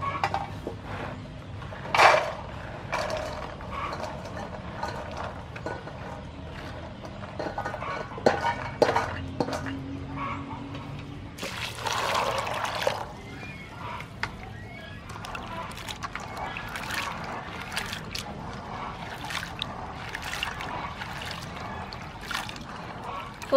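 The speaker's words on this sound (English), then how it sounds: "Now I start to clean black eye peas." Soaked black-eyed peas are swished and rubbed by hand in water in a pot, giving steady sloshing with occasional clinks against the metal, close and moderately loud through most of the stretch.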